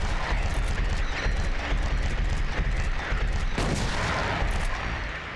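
Dense, loud bursts of shotgun fire at monsters in the video game Silent Hill 2, with repeated sharp blasts overlapping continuously.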